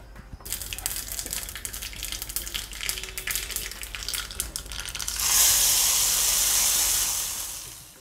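Mustard seeds and a dried red chili hit a spoonful of hot coconut oil, giving a steady close sizzle that flares into a loud, broad hiss partway through.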